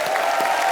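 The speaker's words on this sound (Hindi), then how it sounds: "जोरदार तालियां।" A studio audience at a comedy talk show claps in a brief, dense burst of applause that holds steady for under a second.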